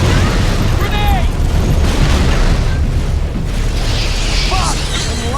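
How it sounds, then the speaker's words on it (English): A grenade going off in a Halo battle, a loud booming blast among chaotic combat noise, with shouted voices and bursts of weapon sound layered over a constant rumbling din. "Grenade!"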